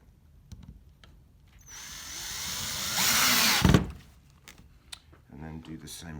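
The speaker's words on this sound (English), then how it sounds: "we're just going to put 2 screws in to hold the spool in place" A power drill whirs up and drives a screw to hold a window shade's cordless spool, rising to a loud whine that stops with a clunk, with quieter clicks and handling noises before and after.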